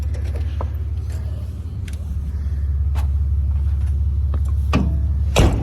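A Cummins diesel truck engine idles with a steady low rumble on a cold day, accompanied by occasional creaks and clicks of the cab and a louder knock near the end.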